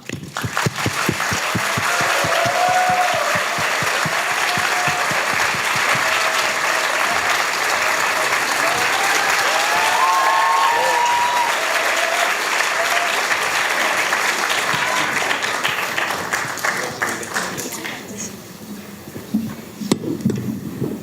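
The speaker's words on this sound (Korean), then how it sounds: "이재명 후보님을 아주 힘찬 박수로 모시도록 하겠습니다" Loud, vigorous applause from a university audience in Gwangju welcoming a presidential candidate to a lecture, sustained for most of the stretch before tapering off near the end.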